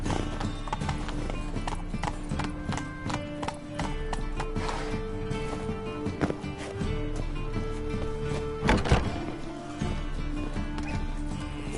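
The horse Roach trots in the video game Witcher 3, with continuous rhythmic hoof clip-clops over background game music and ambience, plus a brief neigh and a louder jostle near the end.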